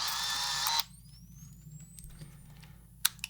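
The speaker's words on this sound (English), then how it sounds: "it winds the film when you release it" An old film camera's shutter release followed by a motor winding the film: a brief loud whirring burst, then a quiet high whine, and a small click near the end, captured close.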